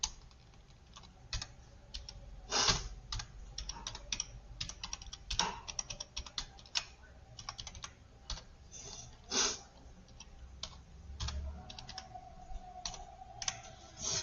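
A password being typed on a computer keyboard, with quick irregular key clicks and occasional louder presses, close and fairly quiet with no talk.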